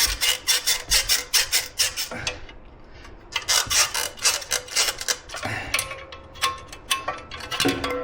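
Bent hose pliers twist and work a rubber hose off a fitting during a Harley-Davidson Screaming Eagle wedge air cleaner install, making repeated close scraping and rubbing strokes in an irregular rhythm.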